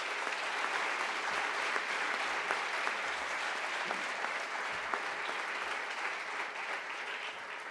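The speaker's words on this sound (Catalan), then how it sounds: "Us prego un fort aplaudiment per ella." Gala audience at the FAAD 2019 award ceremony applauds warmly, a steady mass of clapping with a few sharper individual claps standing out, tapering slightly toward the end.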